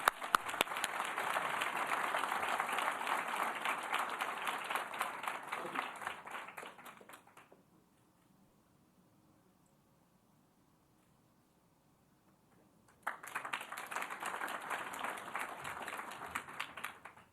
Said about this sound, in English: Please join me in applauding Shape Up one more time.